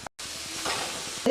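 Ground curry leaves and spice powder sautéing in a pan for curry leaf kuzhambu, a brief close sizzle with stirring scrapes and a short louder clatter at the end.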